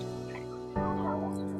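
Naked neck chickens on a poultry farm give a soft, low clucking and gobbling call nearby that swells louder partway through, over a steady background hum.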